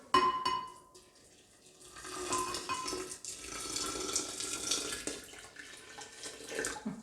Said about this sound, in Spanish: Aquí tengo una taza de agua caliente que